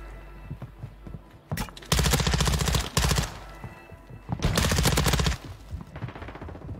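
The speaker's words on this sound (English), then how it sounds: "And the BAS-P, the gun I'm using right now." The BAS-P fires in Call of Duty Warzone 2, loud close bursts of rapid automatic gunfire, a short burst followed by two longer sustained strings separated by quieter gaps.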